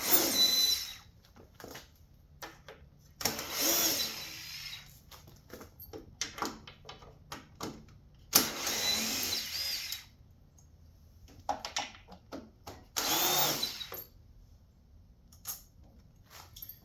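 Cordless power drill backing screws out of an exterior patio shade track, several short whirring bursts separated by quiet gaps, close by, with small clicks and handling noises between runs.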